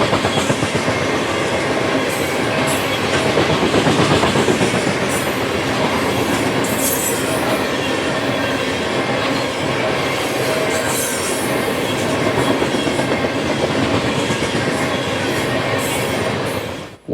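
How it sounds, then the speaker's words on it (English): A CSX ethanol tank train about a mile long, led by an EMD SD70AH-T4 locomotive, rolls past loud and close, a continuous rumble of wheels with rhythmic clacking over rail joints and occasional high squeals. "CSX B779 was first to arrive with a mile of tanks off of the Union Pacific bound for Seawarren"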